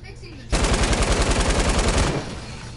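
Automatic gunfire in a video game shootout, a rapid evenly paced burst of about a dozen loud shots lasting under two seconds, cut off abruptly over a low game background.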